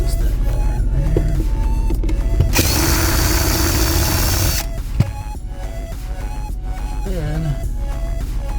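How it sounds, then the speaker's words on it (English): A power drill whirs steadily for about two seconds while backing out the screws that hold an RV dinette table in place, set among quieter clanks and handling noises. "Just removing all these screws that hold this table on here"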